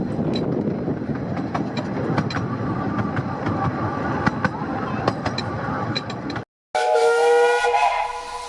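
A steam train on the Ravenglass & Eskdale Railway during its 150th anniversary gala, rumbling and clattering loudly with hissing steam and short whistle toots, then a sharp cut to a shrill, sustained steam whistle.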